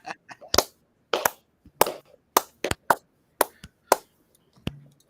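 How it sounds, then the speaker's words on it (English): Slow clapping from a meme of Morgan Freeman standing up, about ten sharp, close claps spaced roughly half a second apart with short pauses between them. "can you throw in that slow clap gif?"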